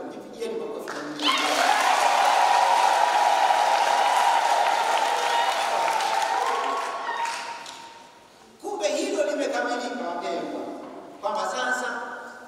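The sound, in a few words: congregation applauding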